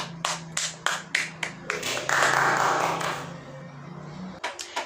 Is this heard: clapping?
yes